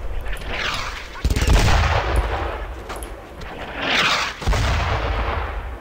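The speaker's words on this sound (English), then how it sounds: "Yeah, I think that might be an MG-42. Freaking artillery." Artillery fire and an MG-42 machine gun in the Brothers in Arms: Road to Hill 30 World War II game, with heavy booming blasts and rattling bursts rolling in waves, loud and nearby, with faint talk underneath.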